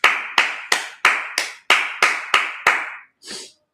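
Sharp, loud handclaps at a Sabbath service, about nine evenly spaced claps in a brisk rhythm followed by one softer final clap, close and alone.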